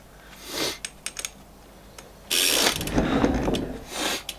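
Ratchet clicking while a BMX cassette sprocket is tightened onto the hub, in a few short bursts followed by a longer, louder run of rapid pawl clicks, close and alone without talk.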